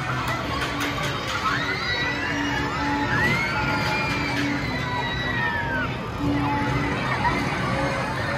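Children yell and shriek from high up on a Ferris wheel at an amusement park, excited cries rising over a busy crowd murmur, with people talking nearby throughout.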